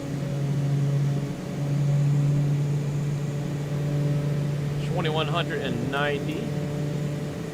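Black Square B60 Turbine Duke aircraft engines humming steadily in the cockpit, a constant droning tone with the RPM rising, while someone talks briefly over the drone near the end.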